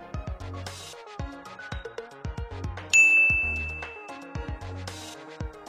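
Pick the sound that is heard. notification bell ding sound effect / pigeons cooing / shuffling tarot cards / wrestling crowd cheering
notification bell ding sound effect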